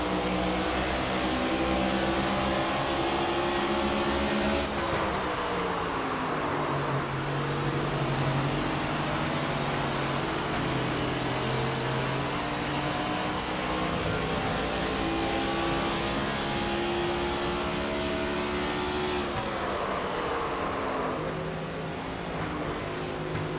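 Race car engines roar continuously in the NASCAR 25 video game on Xbox, a loud sustained drone with shifting pitch as cars run, no talking.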